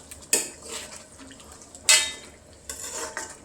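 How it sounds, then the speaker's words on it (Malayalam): A metal spoon stirs curry in a cooking pot during lunch preparation, with three sharp scraping clanks against the pot spaced about a second apart and softer stirring and faint sizzling between them. "നന്നായിട്ടൊന്ന് ഇളക്കുക."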